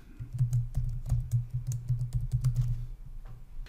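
Someone typing a password on a computer keyboard: a quick, irregular run of close, crisp key clicks with a few brief pauses, trailing off near the end.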